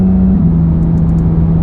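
A Porsche 991.2 GT3 RS fitted with an aftermarket exhaust fills the cabin with a steady, loud, low drone that holds one resonant tone throughout, with no talking.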